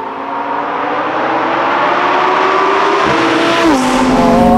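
A Lamborghini Huracan GT3 street car driven in a relaxed way, its engine droning loud and close with a steady rising pitch, then briefly dropping as it shifts gear near the end.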